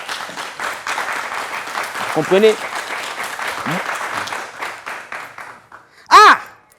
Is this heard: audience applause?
yes